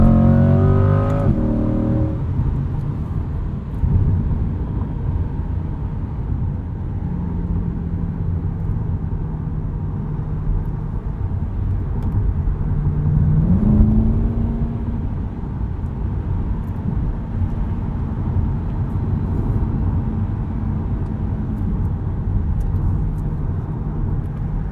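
A 2020 Chevrolet Corvette C8 Stingray coupe's exhaust hums steadily while driving on a backroad, rising in a brief rev mid-way before settling back into a continuous cruising drone, with no talking.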